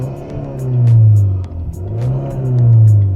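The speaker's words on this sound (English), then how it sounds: "we're going to rev." Turbocharged Hyundai Sonata N Line engine revving up and down twice, a loud close rumbling drone that swells and falls, with a faint blow-off valve hiss possible at the dip.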